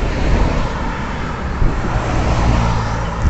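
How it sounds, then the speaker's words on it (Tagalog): Cars driving by on a road, a steady broadband rumble of traffic with swells as vehicles pass, moderately loud and continuous with no talking. "Ayan pa ng mga kotse."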